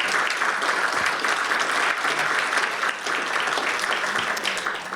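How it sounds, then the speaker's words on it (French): An audience applauds volunteers of a community volunteer action centre, sustained, fairly loud clapping from many hands that dips briefly and tapers slightly toward the end. "j'aimerais qu'on leur donne une bonne main d'applaudissement"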